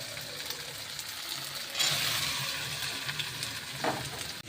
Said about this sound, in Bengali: এবার সিদ্ধ করা এই ইঁচড়গুলো আমি